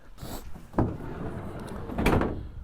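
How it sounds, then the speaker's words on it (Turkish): Sliding side door of a Toyota Proace City Cargo van, two distinct thuds about a second apart as the door runs and latches, fairly close with a short rustle before. "Bu arada her iki tarafta da sürgülü kapı var. Onu da göstereyim hemen."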